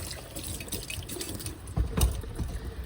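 Running tap water rinses an engine part fresh from an ultrasonic cleaner, a steady close splashing stream with a few louder spatters and gurgles as the part is moved under the flow.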